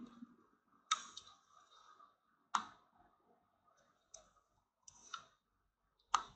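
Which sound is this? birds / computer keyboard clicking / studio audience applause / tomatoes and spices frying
computer keyboard clicking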